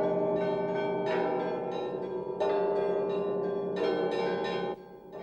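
Church bells cast under Metropolitan Iona Sysoevich ring in Rostov Veliky in honour of the Patriarch's arrival, with rich, overlapping peals struck in repeated waves and a resonant, sustained ringing between strikes.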